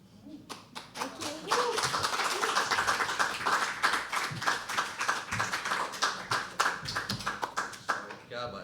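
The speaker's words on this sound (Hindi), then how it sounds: "एक बार जोरदार तालियां बजाओ उसके लिए।" Sustained audience clapping at a live poetry open mic, dense and lively with hands clapping near and far, some voices and a child audible underneath.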